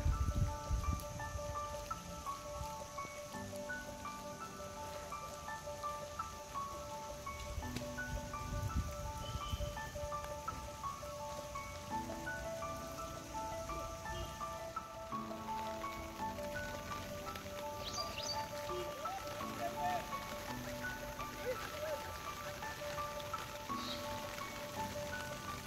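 Rain falling close to the microphone on Devarayanadurga hill near Bangalore, a soft continuous patter of drops, with quiet bird chirps and background hum threaded through it.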